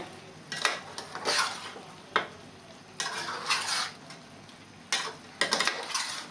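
Chilli chicken with vegetables stirred in a pan, a spatula scraping and clinking against the metal in several distinct bursts separated by quieter pauses, no voices.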